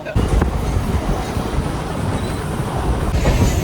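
Steady low rumble of a slow local train from inside, with continuous rattling and clatter, loud and unbroken throughout, no voices.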